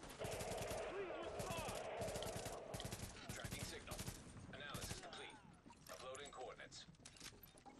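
Rapid automatic gunfire in Tom Clancy's The Division, repeated loud bursts of shots with mechanical clatter and rattling, fading to scattered sporadic fire toward the end.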